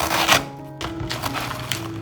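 Lemongrass being finely minced with a knife for grilled meat skewers: a few sharp chopping knocks on a board, close and moderately loud, separated by short pauses.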